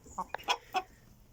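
A few short, soft clucks from newly hatched chicks, spaced irregularly over a quiet background, fairly faint.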